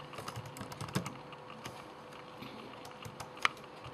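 Key clicks from someone typing on a computer keyboard while updating a WordPress site, soft uneven taps close up and running steadily for a few seconds with a couple of sharper strikes, no voice.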